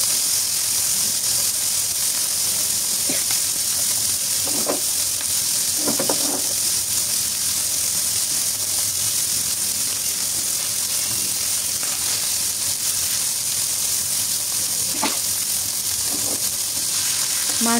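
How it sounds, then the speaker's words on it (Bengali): Small mola fish frying in a pan, a steady hiss of oil sizzling throughout with a few soft clicks and pops from stirring or turning. "মাছগুলো আমার প্রায় ভাজা হয়ে গেছে, আমি আরেকটু উল্টে পাল্টে দিচ্ছি"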